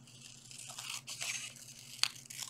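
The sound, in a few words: cutting out red paper shape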